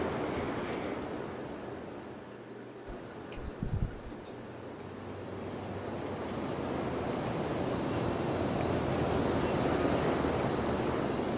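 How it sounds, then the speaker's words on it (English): Steady wind roars and rushes throughout, swelling gradually louder toward the end, with a brief low thump partway through and no voices. "It's so exciting listening to wind."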